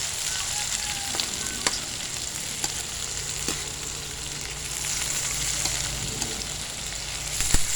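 Liver frying in a pan gives a steady, close sizzle with scattered sharp pops and crackles throughout, swelling slightly louder at the very end, with no voices.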